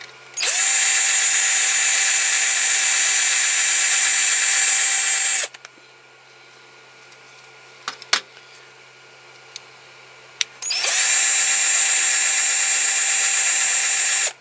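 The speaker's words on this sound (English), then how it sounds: "I still haven't sharpened my drill bit." A power drill drilling into a Matchbox King Size K8 Guy Warrior car transporter model with an unsharpened bit, two loud steady whining bursts of about five seconds each, with a quiet gap of small clicks and taps between them.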